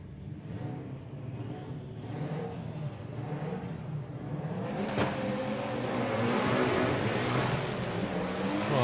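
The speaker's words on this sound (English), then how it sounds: "big wheel spin once again for Jacob as he leaves the line" A drag racing car at the STP Sportsman Nationals launches off the line with big wheel spin. The engine roar grows steadily louder and harsher over several seconds.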